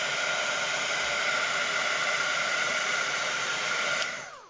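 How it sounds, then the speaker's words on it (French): A heat gun runs nearby during a watercolour painting session with Albrecht Dürer pencils, a steady, loud airy blowing roar that holds evenly for about four seconds and then winds down as it is switched off. "J'aurais dû me brancher un heat gun en même temps."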